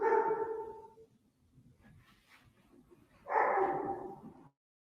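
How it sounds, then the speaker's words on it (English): A pet dog barks in two short bursts at the start and again after a quiet gap, sounding indoors and fairly close. "Someone's got a pet dog."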